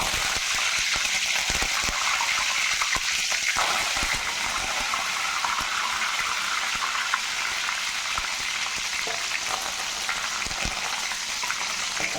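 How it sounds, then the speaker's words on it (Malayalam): Continuous bright hiss of curry leaves frying in oil, close and fairly loud, with a few crackles and stirring clicks early on. "വേപ്പില വറുത്തിടാൻ പോകുക."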